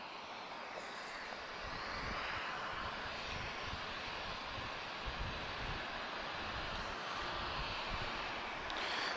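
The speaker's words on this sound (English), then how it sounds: "So another 737-800 inbound now from Ryanair." A Ryanair Boeing 737-800 inbound to Lisbon Airport produces a steady, distant jet roar mixed with wind buffeting on the microphone, with no voices.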